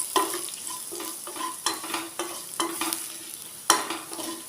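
Onion and crushed chilli frying in a pan while being stirred, a soft continuous sizzle broken by repeated spatula scrapes and clicks every half second or so, close and fairly quiet, no voices.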